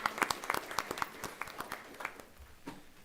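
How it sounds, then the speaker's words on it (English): Applause from a meeting audience: a few clear, scattered claps over about three seconds, thinning toward the end, with no voices. "Let's give Miss London another round of applause."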